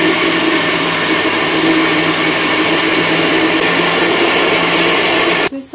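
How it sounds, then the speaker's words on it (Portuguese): A blender mixing a liquid ice cream base runs loudly and continuously with a steady whirring roar, then cuts off abruptly at the very end. "vou bater agora aqui no meu copo de liquidificador só pra misturar mesmo"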